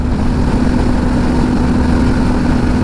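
A Harley-Davidson Pan America motorcycle fitted with a Stealth exhaust idles close by, producing a loud, steady low rumble with a constant droning hum and no talking.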